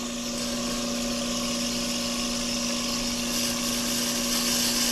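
An off-the-car brake lathe turns a brake rotor with a steady mechanical whine and constant tonal hum under a bright grinding hiss. The sound runs close and even throughout.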